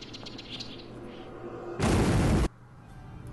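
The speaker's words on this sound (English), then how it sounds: "Oh no, there's an explosion." An explosion in the video game Witcher 3 lands as one loud, dense blast of roughly half a second that cuts off abruptly, set against quieter game ambience.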